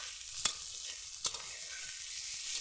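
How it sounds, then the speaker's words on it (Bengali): Spiced cabbage curry being stirred in hot oil: a soft continuous sizzle broken by two sharp scraping clicks of the spoon against the pan, fairly quiet and close. "এবারে সব একসাথে ভালো করে আমরা মিশিয়ে নেব, তেলের সাথে একটু ভালো করে যাতে মিশে যায়।"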